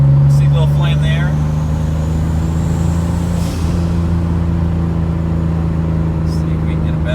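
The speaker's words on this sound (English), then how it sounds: "let it kind of rev down on its own, and then once you get back on throttle" A turbocharged Hyundai Genesis Coupe with the 3.8 engine, which has trouble holding boost, idles and hums loudly and close by with a steady low drone. The note dips briefly midway, and a voice talks over it.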